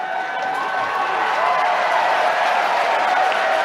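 Applause from an audience at a debate, a steady, dense wash of clapping that holds at an even level throughout with no voices on top.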